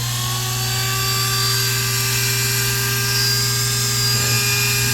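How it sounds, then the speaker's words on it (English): A wire wheel spins at about half speed, scrubbing rust off a pair of small needle nose pliers, giving a steady, loud motor whine with a continuous high grinding hiss and no break in the sound. "put on the wire wheel and start taking out some rust"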